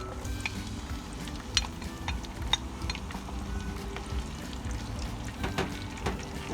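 Onions fry in hot oil for shrimp fried rice, a quiet, even sizzle with a few sharp clicks and light stirring sounds scattered through it.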